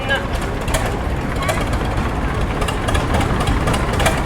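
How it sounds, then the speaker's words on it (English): A small Wisconsin engine-powered tractor runs steadily in a tractor parade, a continuous broadband engine rumble at moderate level with crowd and announcer voices mixed in. "Great little tractor, sounds like it's running good."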